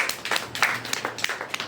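Audience at a Hindi literary gathering clapping to welcome a poet, a short burst of scattered, moderately close applause.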